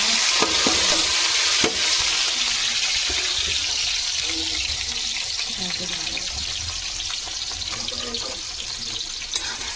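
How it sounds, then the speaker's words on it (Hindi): Cumin seeds frying in hot oil for pav bhaji give a dense, steady sizzle that fills nearly ten seconds at close range, with a few sharp kitchen clicks scattered through it. "तेल डाल दिया, जीरा,"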